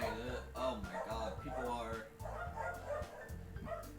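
Dogs bark repeatedly at people passing outside the house, a series of rhythmic, fairly loud barks mixed with a steady background of speech-like sound.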